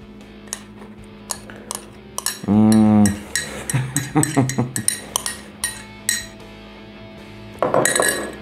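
A spoon clinks and taps against a glass as whipped coffee foam is scooped into milk, a run of sharp, close ringing knocks with a brief sustained scraping tone early on and a burst of rattling at the end.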